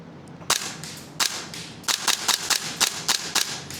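Gunsmodify SCAR MWS airsoft rifle firing .4 gram BBs: sharp, close snapping shots, first singly with pauses, then a quicker string of about a dozen rhythmic cracks.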